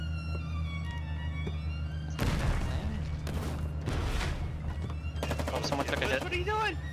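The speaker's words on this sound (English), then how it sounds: "I guess follow the sound of the gunfire." Gunfire in the war video game Foxhole: rapid bursts of automatic shots and thuds crack in over a steady low drone, with a voice briefly heard among the shots.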